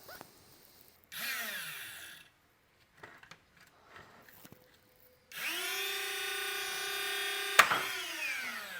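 Flywheel motors of a modified Nerf Stryfe blaster, run on a LiPo battery, whine up in a short rev, then a longer rising, steady high whir that winds down, close and loud.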